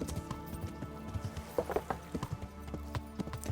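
Horse hooves clip-clopping in the medieval video game Kingdom Come Deliverance, an irregular run of close thuds during riding, moderately quiet with soft background ambience.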